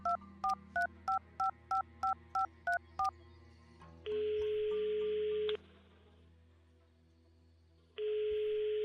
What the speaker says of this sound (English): I'll call him on his cell phone.